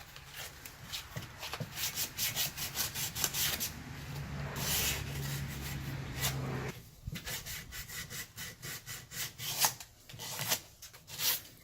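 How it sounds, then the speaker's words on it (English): Hand sanding with 120 grit sandpaper on a plastic trolling motor propeller gives quiet, rhythmic back-and-forth scratching strokes, close up, with a brief smoother pass in the middle. "This is 120 grit. It's smoothing them lines up pretty well."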